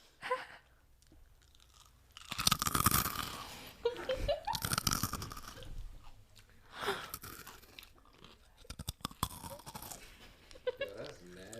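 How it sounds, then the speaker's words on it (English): Two people bite into a crunchy snack at the same moment, giving loud crisp crunches followed by bursts of chewing and short laughs between quieter pauses. "Make sure your volume's turned up so you can hear this crunch."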